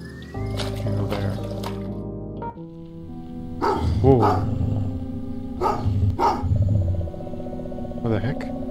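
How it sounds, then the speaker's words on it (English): A dog in Goosebumps The Game, The Freaky House, barks several times, loud and sharp, over game music and tones, while a voice briefly exclaims. "A dog attacked as soon as you enter your neighborhood."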